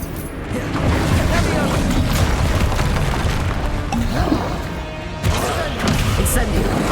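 Incendio fire spell cast in the video game Hogwarts Legacy: loud, crackling fiery bursts and heavy booming impacts roll continuously, with a sharp new blast near the end.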